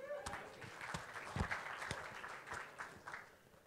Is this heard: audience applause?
yes